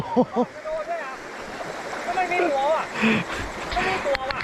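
A steady rush of flowing stream water runs throughout while someone talks excitedly in Thai over it while fishing for snakehead, his voice rising and falling.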